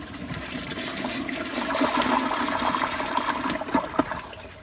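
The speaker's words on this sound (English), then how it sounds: "here's another flush." A 1994 Kohler Wellworth Lite elongated toilet flushes, a steady close rushing and swirling of water that runs the whole length without a break.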